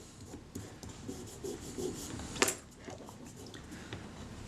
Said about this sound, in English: rubbing off any excess adhesive on the surface